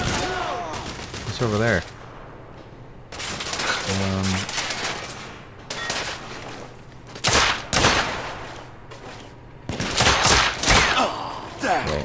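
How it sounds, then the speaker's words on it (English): Bursts of suppressing gunfire in the Victorian shooter The Order: 1886, with sharp clustered volleys and single loud shots scattered across the stretch, while someone speaks briefly between them. "I'm taking suppressing fire."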